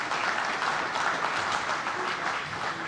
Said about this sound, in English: And applause for those two.